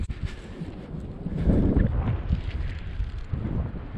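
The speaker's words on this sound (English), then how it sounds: "I mean, there's a bit of wind" Steady wind blowing across an open beach in Zeeland, the Netherlands, a continuous low rush with gusts and buffeting on the microphone, swelling louder midway through, with no talking.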